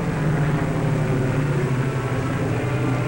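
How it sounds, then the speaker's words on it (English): A very large aircraft roars steadily down a runway on its takeoff run, a continuous heavy engine drone with a low hum running through it and no breaks. "One of the world's largest aircraft, carrying a tiny particle of atomic energy, speeded down the runway for science."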